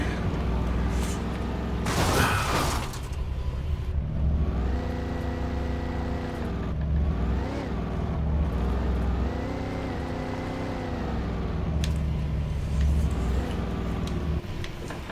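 A car driving in the video game Alan Wake Remastered, its engine droning and revving with shifting pitch throughout, a sharp burst of noise early on, with game sounds layered over the steady motor.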